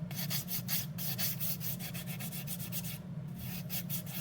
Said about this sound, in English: that's why I'm filing quite a bit, because I want my apex